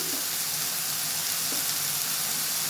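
Tomatoes frying with salt and turmeric in a pan, a steady, close sizzle with a constant hiss and no pauses.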